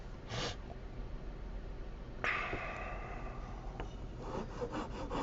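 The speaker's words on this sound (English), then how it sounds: "I got my wood file" A wood file rubs against a wooden pipe stand in short, rasping strokes: a brief pass near the start, then a longer, steadier stretch of filing and a few quicker strokes toward the end, close to the microphone.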